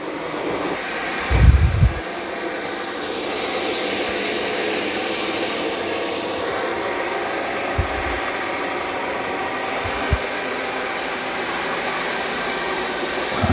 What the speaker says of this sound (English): It's doing a good job of vacuuming this carpet, this rug.